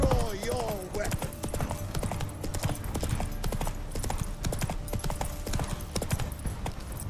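Hooves of Roach, a horse in The Witcher 3 video game, clip-clop in a steady galloping rhythm throughout, with game music and sound effects layered over it.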